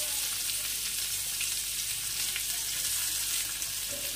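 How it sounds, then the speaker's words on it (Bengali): Onions frying in plenty of oil in a wok, a loud, continuous sizzling hiss with small crackles and no talking. "এই তেলের মধ্যে আমি কিছুটা পেঁয়াজ ভেজে নেব।"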